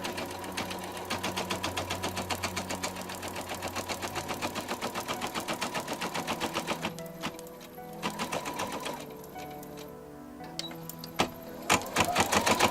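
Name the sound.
embroidery machine stitching tack-down stitch over Mylar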